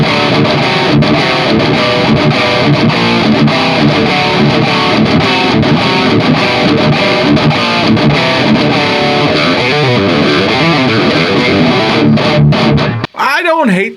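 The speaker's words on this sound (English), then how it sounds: "It is just straight up shit cow, based on shit cow distortion." An electric guitar runs through the Shit Cow distortion effect on an M-Vave Cube Baby effects processor, producing a thick, buzzing, saturated tone played continuously and loud for about thirteen seconds before a brief pause.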